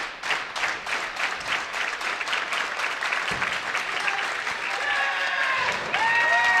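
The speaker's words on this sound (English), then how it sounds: "Crowd getting into it now." Golf crowd at the U.S. Amateur final applauding and cheering steadily after the winning moment, dense clapping throughout with some voices and whistles rising near the end.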